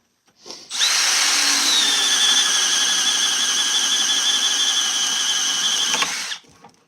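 A brand-new Milwaukee M12 sub-compact cordless drill runs at steady speed for about five seconds, a loud close whine with a faint rising squeal, starting and stopping abruptly, with no talking.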